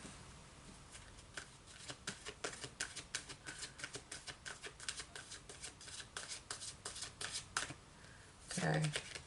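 Angel oracle cards shuffled close by in a quick, steady run of crisp riffling flicks lasting several seconds, followed by a brief soft rustle near the end.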